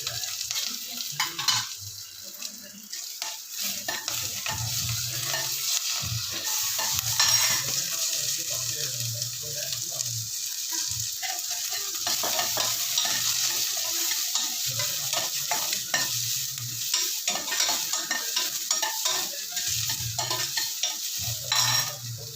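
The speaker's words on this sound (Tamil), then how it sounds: "பச்சை மிளகா கருவேப்பிலையும் போட்டுடுறேன்." Green chillies and curry leaves fry and sizzle in a pan for ridge gourd chutney while a spoon stirs and scrapes repeatedly against the metal, a steady close crackle with irregular clinks throughout.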